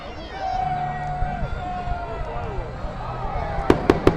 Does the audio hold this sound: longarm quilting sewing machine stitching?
no